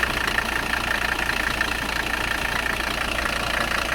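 Diesel engine of an abandoned Mercedes 300CD idling steadily after being started with ether, a continuous rough, knocking rumble close by with no talk.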